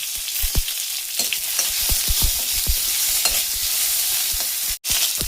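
Dried red chilies, black and white cumin, tomatoes and ginger fry in a pan for chutney, with a steady broadband sizzle and repeated sharp scraping knocks of stirring throughout, close and fairly loud.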